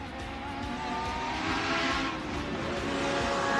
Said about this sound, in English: Let's listen to Franco Scrivante in the Chevron.